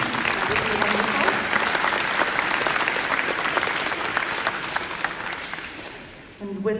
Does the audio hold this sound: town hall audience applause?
yes